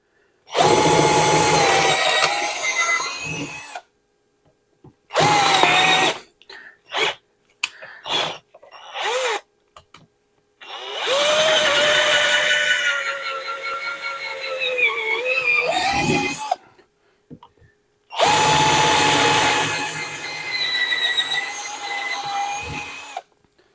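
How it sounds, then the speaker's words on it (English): A power drill with a 9/32 bit boring pilot holes for mounting a 3-inch swivel vise on a workbench, whining in several bursts of varying length with short pauses between, close and loud. "you want to drill pilot holes out just to mock it up to see what you need"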